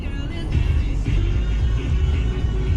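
A 2005 Toyota Highlander Limited V6 with 225,000 km on it drives through the city, giving a steady low engine rumble and road noise that swells slightly with mild acceleration.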